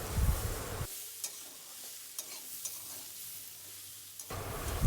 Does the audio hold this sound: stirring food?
yes